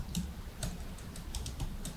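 Quick, light taps on a computer keyboard, a run of close, crisp keystrokes at an uneven typing pace with no talk.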